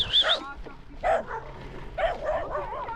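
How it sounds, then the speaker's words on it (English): A dog barks and yips in short high bursts, roughly three clusters over a few seconds, heard close beside a gravel road in Victorian high country during a cycling ride. "Hey, you vicious dog!"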